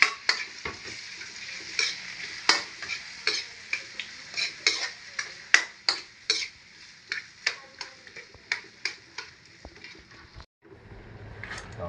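Tomatoes added to a hot pan and stirred, with a rhythmic run of close scraping utensil strokes over a soft sizzle that stops abruptly near the end.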